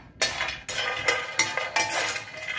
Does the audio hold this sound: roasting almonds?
yes